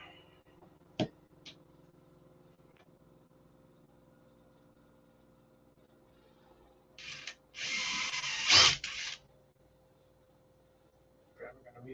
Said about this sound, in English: I got to drill them holes first.